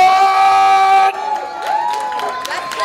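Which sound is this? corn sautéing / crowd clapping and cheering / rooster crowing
crowd clapping and cheering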